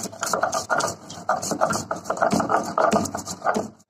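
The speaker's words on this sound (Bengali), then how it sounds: "মশলাটা বেটে নেব।" Spices are ground on a grinding stone, giving a continuous close, rhythmic gritty scraping and rubbing as the stone is worked back and forth.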